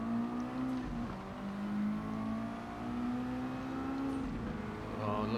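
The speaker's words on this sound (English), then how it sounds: "Oh, it looks like Mr. G Soto's revving up for the old pit lane" Roadster touring race car engines at the Tsukuba circuit in the video game Gran Turismo 7, a steady droning engine whine that rises and falls in pitch as cars rev and hold speed, with no talking.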